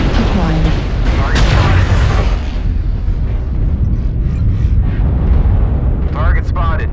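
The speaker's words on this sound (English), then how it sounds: "Artillery strike online." Artillery strike explosions rumble through a mech combat video game, a dense run of heavy booms and rolling blasts that stays loud throughout, with voices talking over the bombardment.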